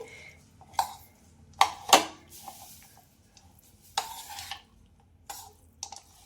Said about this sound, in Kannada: 1 ಸ್ಪೂನ್ ಮಾತ್ರ ಹಾಕೊಂಡು ಮಿಕ್ಸ್ ಮಾಡಿ